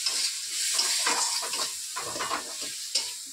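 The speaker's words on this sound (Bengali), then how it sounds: "অল্প জল দেব।" Spices frying in a pan hiss and sizzle steadily after a little water goes in, with a spoon scraping and stirring through the mixture nearby and no one talking.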